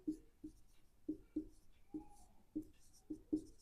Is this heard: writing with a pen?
yes